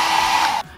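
Hair dryer blowing steadily and loudly during a makeup session, a constant close whoosh that cuts off abruptly near the end.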